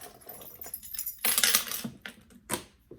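Keys jangle and clink in short metallic bursts while a Jacquemus Le Chiquito bag is packed with small items, faint and close with a few brief rustles between.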